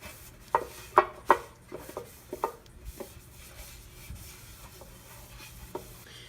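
A rag rubs and wipes around the inside of a Ford 4R70W transmission pan to clear grit and debris, making soft scuffing strokes with a few sharper knocks near the start, fairly quiet and close.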